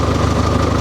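A Massey Ferguson 2680 four-wheel-drive cab tractor runs on a farm, its engine giving a loud, close, steady low rumble with no voices.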